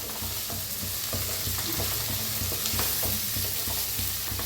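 Onion, tomato and seeds roast in a pan, giving a dense, continuous sizzle with rhythmic stirring scrapes, loud and close throughout.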